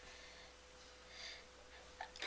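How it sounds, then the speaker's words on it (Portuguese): A single close, loud sneeze bursts out at the end after a quiet intake of breath. "Vou espirrar pra empolgar."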